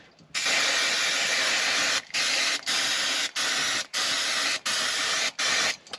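Freeze spray blasting onto car sound-deadening material in long hissing bursts, first a sustained spray and then a run of shorter bursts with brief gaps, close and steady with no talking.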